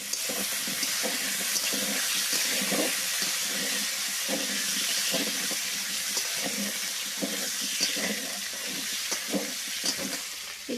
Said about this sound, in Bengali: এখানে আলু ভাজা হচ্ছে